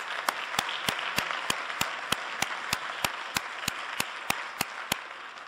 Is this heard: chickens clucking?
no